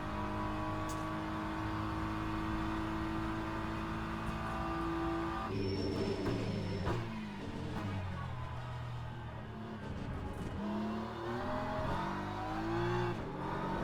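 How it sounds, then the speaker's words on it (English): A BMW GT3 race car in the racing game Le Mans Ultimate, its engine droning steadily then revving through repeated gear shifts and rising and falling pitch, loud and continuous throughout, with no talking. "the BMW GT3 car does feel quite nice around this track"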